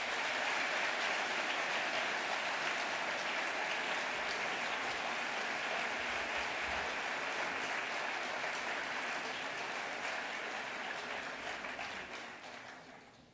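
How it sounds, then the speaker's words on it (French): Graduation-ceremony audience at ICES applauding staff, a loud, dense, even wash of many clapping hands lasting over ten seconds before tapering off at the end. "je vous propose de les applaudir pour leur montrer votre reconnaissance"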